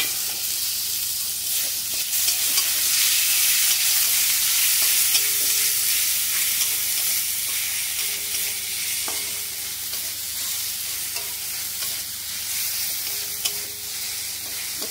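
Finely chopped tomato with salt frying in hot oil, giving a constant bright sizzle and hiss with occasional soft stirring taps, close up, no speech.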